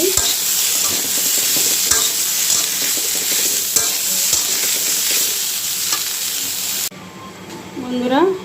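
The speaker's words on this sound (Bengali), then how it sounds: "পেঁপে আলুটা একটু হলুদ আর লবণ দিয়ে ভেজে নিই" Papaya and potato fry with turmeric and salt in a hot pan, a steady loud sizzle and hiss with occasional stirring scrapes, easing near the end as a voice speaks briefly.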